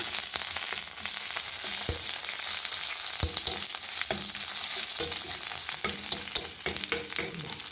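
Mustard seeds and chillies tempering in hot oil for a ridge gourd sambar, steady sizzling with crackling pops and frequent spoon scrapes and taps against the pan, close and moderately loud, no talk.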